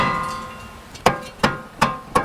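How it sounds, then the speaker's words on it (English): A dead blow hammer taps a brake rotor during wheel bearing work, four sharp, evenly spaced thuds close by, each about a third of a second apart, with no speech. "Make sure you got it like a little dead blow. Tap away."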